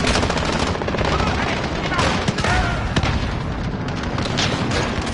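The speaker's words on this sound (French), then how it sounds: "Faites taire la mitrailleuse." Sustained machine gun fire from the Modern Warfare video game, loud and dense throughout with rapid bursts and occasional heavier booms layered under the chatter of combat.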